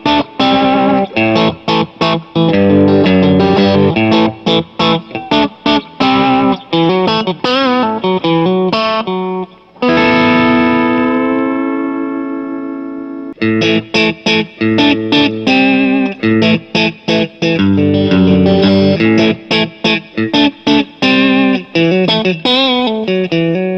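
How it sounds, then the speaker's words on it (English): Bright electric guitar playing a busy rhythmic riff with a held, ringing chord in the middle, slightly overdriven with a twangy, clear edge, from the outer single-coil pickup of a Fender HSS Stratocaster. "So it's going to be sort of like that Tele outside single coil sound."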